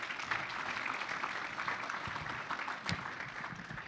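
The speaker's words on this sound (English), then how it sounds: "Let's have a round of applause." Audience applause at a regional economic development luncheon: a steady, dense wash of many hands clapping, fairly loud and sustained throughout with no talking over it.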